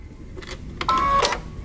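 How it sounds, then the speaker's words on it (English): A home sewing machine runs a short burst stitching a tee shirt seam at a 3/8-inch allowance, a close mechanical whir rising then stopping, with no voices. "we're going to sew using 3/8 of an inch seam allowance"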